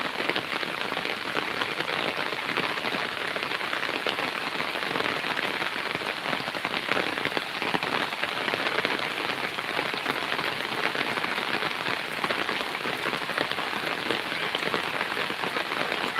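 A downpour on a farm in Muksudpur, heavy rain drumming steadily on the ground and plants in a thick, even roar of close drops that never lets up.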